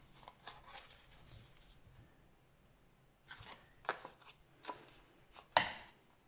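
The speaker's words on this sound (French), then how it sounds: "je recoupe mon coin là, je le coupe comme ça, de la pointe à l'autre pointe." Scissors cutting a corner from one point to the other for a mini binder box: a few sharp, scattered snips and crisp rustles in a quiet room, with a louder final cut near the end.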